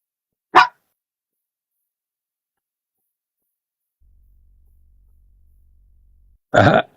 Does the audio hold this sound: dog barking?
yes